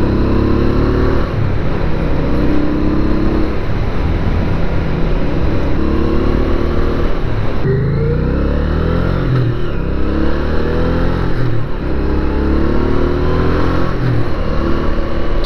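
A Honda Ascot motorcycle engine sounds while being ridden, a loud, continuous drone rising and falling through gear changes against constant wind and road noise.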